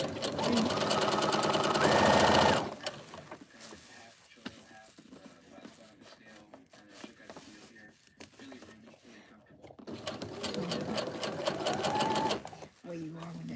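Sewing machine stitching craft-fair pieces in two loud bursts, a fast even whirring drone at the start and again near the end, with quiet handling noises between.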